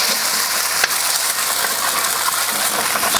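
Steady broadband sizzle and scratchy scraping from a pan on a Kamado Joe grill as egg fried rice is cooked, a utensil working across the pan bottom, continuous and fairly loud with no talk.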